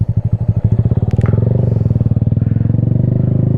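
Motorcycle engine at idle and low revs while the rider clutches in and clicks down to second gear, a loud, close, rhythmic thumping putter that quickens and smooths into a steady chugging drone.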